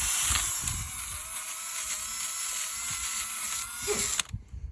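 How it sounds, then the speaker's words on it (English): A small power tool whirs steadily while cleaning rust off a screw, a continuous high buzzing drone that stops abruptly near the end. "this screw is kind of rusty, so I'm gonna try cleaning it up here"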